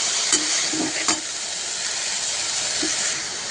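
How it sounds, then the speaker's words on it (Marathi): Chopped fenugreek leaves with salt sautéing in a pan on low heat, giving a steady close sizzle and hiss with a few soft stirring scrapes and clinks, no voices. "आपल्याला बारीक कट केलेली मेथी घालून घ्यायची दोन ते तीन चिमूट असं मीठ घेतलेलं आहे मीठ घालून घेऊया आणि भाजी छान परतून घेऊया"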